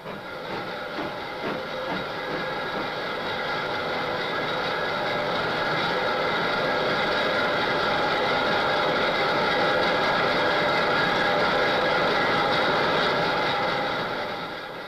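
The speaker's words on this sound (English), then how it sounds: "Now here, we're testing out an engine." A steam locomotive engine running under test for drawbar pull at different valve settings, a steady loud rumble with rapid rhythmic chuffing and hiss that holds constant throughout.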